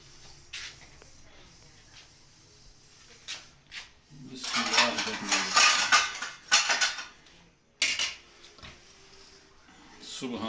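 A metal lid comes off a biryani pot that has been set on a griddle over a stove, clattering and scraping with bright metallic clinks and rattles through the middle of the clip, then a final clank, while a person speaks.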